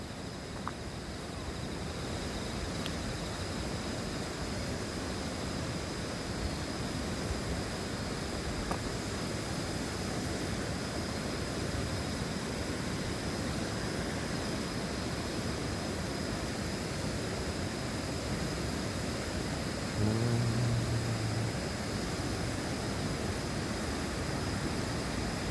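The Gyeongho River rushes strongly after Typhoon Lingling, a dense, steady roar of fast-flowing water that holds at an even loudness throughout, with a brief low tone near the end.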